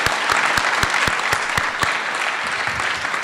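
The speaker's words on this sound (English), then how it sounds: "give Mr. Chris Hartman a special round of applause" An audience at a flight academy graduation ceremony applauds steadily, dense clapping with a few sharp, distinct claps standing out in the first half, no talking.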